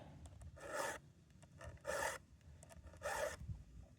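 Saw teeth biting into a chunk of wood, heard as three separate rasping strokes spaced about a second apart. Each stroke is a short, moderately close scrape over a quiet low background.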